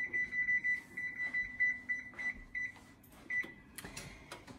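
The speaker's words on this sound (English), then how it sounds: "I'm gonna turn the oven on to 425 degrees" An oven being set to 425 degrees for baking bacon: a run of short electronic beeps from the control panel at a steady pace, faint and close, with soft kitchen clatter and no speech.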